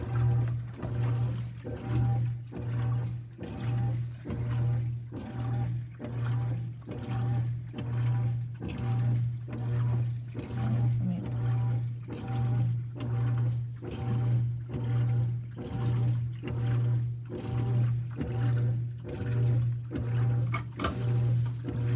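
A GE 4.6 washing machine runs its wash action, the agitator churning water in a steady back-and-forth rhythm of repeated low surges for over twenty seconds, close and continuous with no talking.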